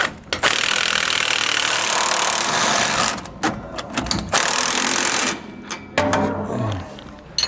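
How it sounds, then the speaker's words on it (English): Socket wrench snugging down the hardware on a Roadmaster rear anti-sway bar on a 2018 Forest River trailer, heard as loud, continuous ratcheting and mechanical clatter with a few brief pauses and no talk. "We're going to use a 15/16 socket and wrench to snug it down."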